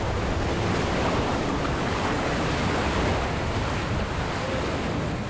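Surf breaking steadily on an Arctic shore, a continuous loud wash of waves with wind noise throughout and no voices.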